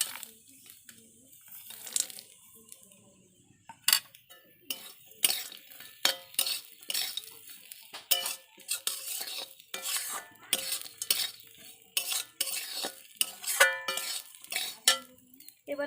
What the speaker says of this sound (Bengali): এবার এর মধ্যে আমরা যে বাদামগুলো ভেজে নিয়েছিলাম সেই বাদাম ভাজাগুলো দিয়ে দেব।